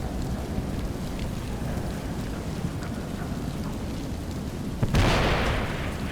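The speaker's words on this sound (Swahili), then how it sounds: "Na bado kuna zidi tu kulipuka." Explosions in the video game Ghost Recon Future Soldier: a continuous rumbling, rain-like roar of debris and fire, broken near the end by one sharp, loud blast.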